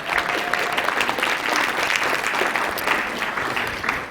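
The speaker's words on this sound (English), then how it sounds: "let's give Barry Abraham a nice round of applause" An audience gives a presenter a round of applause before an AdWords talk, a full, even stretch of many hands clapping at close range for about four seconds.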